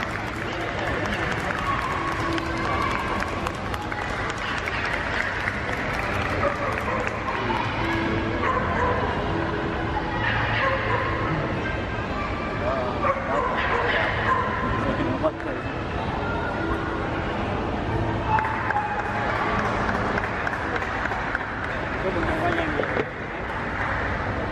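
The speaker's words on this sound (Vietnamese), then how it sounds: "Chó Doberman rất là đẹp, tuyệt vời." At a dog show, dogs bark and yip repeatedly with occasional whimpers among a noisy crowd, scattered applause, and a commentator talking throughout.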